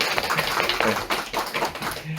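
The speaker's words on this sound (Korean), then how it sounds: "환영의 박수." Welcoming applause from a church congregation during a Sunday sermon, a steady patter of many hands clapping at moderate loudness, with some voices underneath.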